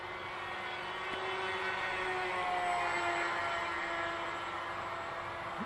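C1 Chaser model airplane cruising at 40% throttle on its maiden flight, a steady, moderately faint motor whine that rises and falls slightly as it passes, with no talk.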